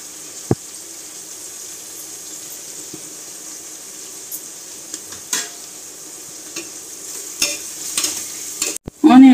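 Onions frying on low heat for mutton biryani hiss softly and steadily, with sparse stirring taps and scrapes, then a clatter and a brief water-like splash at the very end.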